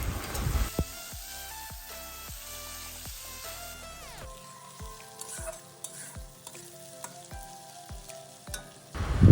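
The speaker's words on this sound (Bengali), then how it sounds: "লঙ্কাটা ভালোভাবে ভাজা হয়ে গেলে এরপর আমি দিয়ে দেব কুচিয়ে রাখা পেঁয়াজগুলি" Chopped onions drop into hot oil in a wok, a sizzle starting mid-way with repeated sharp scraping stirs and clinks in a regular rhythm, close and moderately loud.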